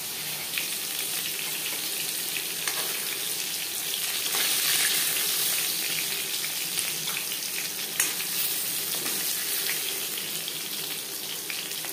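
Steady, busy sizzle of katla fish frying in hot oil, with crackling pops and a few scraping stirs throughout, close and fairly loud.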